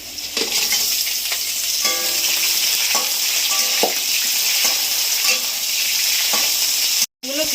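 Malabar spinach stems fry with garlic in a pan, giving an even, close sizzle with occasional spatula scrapes and clinks, and a short silent gap near the end.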